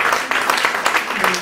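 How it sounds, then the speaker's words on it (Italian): An audience at a small live singing contest in a café claps for the contestants, a dense burst of applause that fills the whole short moment at moderate loudness. "fare un applauso a tutti i concorrenti"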